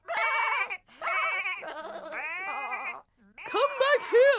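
Cartoon sheep bleat in a series of loud, drawn-out wavering cries, several in a row with brief gaps, close and clear; the voices may be performed imitations.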